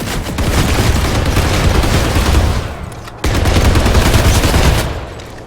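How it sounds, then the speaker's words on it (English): Rapid automatic gunfire from weapons in the PlanetSide 2 video game, loud, dense and continuous, broken by a brief pause before the bursts resume, with no talking. "I love shooting these guns."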